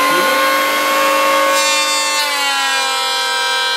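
A Bosch electric planer runs steadily on wood, a loud continuous high whine with strong tonal harmonics that shifts slightly in pitch partway through as the cut loads.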